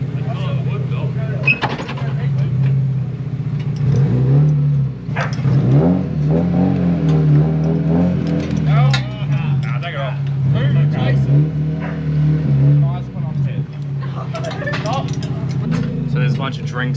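A fully forged Nissan C33 Laurel engine bounces hard off the rev limiter during burnouts, loud and sustained with rhythmic stuttering pulses, while voices talk over it.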